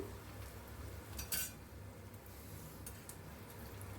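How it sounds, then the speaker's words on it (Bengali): Onions being stirred and fried in oil give off a faint, steady sizzle, with a soft clink of a utensil against the pan, heard quietly and without any talk. "খুব ভালোভাবে পেঁয়াজটাকে আমি নাড়িয়ে নাড়িয়ে ভেজে নিচ্ছি"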